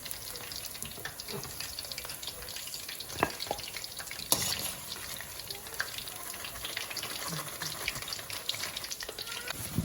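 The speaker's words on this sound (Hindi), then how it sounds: "बस तलना शुरू कर दिए पकोड़े" Pakoras frying in hot oil, a faint, steady bubbling sizzle with occasional small clicks and clinks, distant and quiet throughout, with no talking.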